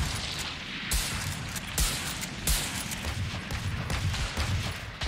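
Gunfire in a video game, a dense barrage of booming shots and explosions repeating every second or so over a constant rumbling, loud and close, with no talking.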